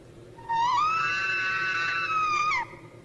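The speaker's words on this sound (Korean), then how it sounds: "갑자기 누군가의 비명소리가 들렸다" A single loud, sustained scream used as a sound effect in a Korean horror story narration, rising sharply, holding for about two seconds, then breaking off, with no talk over it.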